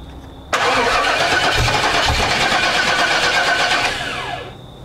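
An old Pontiac Firebird, rebuilt from spare parts and suffering a loose distributor wire, cranks briefly and fires up loudly. It settles into a steady, close idle that fades slightly toward the end.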